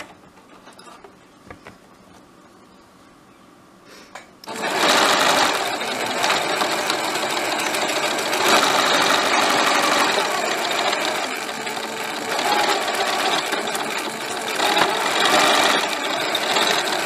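A sewing machine stitches the second seam of a fabric pencil case, starting after a few seconds of quiet and then running loud and close as a continuous rapid mechanical clatter to the end.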